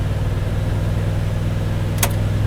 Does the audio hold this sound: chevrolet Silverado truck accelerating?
yes